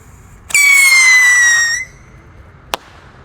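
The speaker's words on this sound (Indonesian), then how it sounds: "Lanjut kita akan menyalakan roket pirotor. Ini yang ukuran kecil berwarna biru seperti ini. Kita nyalakan. Roket siap meluncur." A small blue firework rocket launches with a loud, high whistling screech lasting over a second, fading out, followed by a single sharp crack after a short pause.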